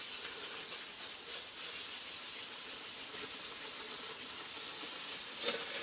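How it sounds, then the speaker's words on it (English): A cloth wipes excess finish off the wooden cabinet of a Garod 15TZ6 radio, making soft, rhythmic hissing strokes that repeat steadily at close range. "I'm going to wipe off this excess right away."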